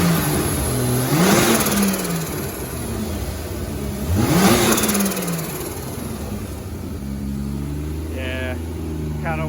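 A turbocharged BMW E36 328i engine revs hard twice, each rise swelling and falling back to a steady idle, followed by a short chirp near the end, with background noise throughout.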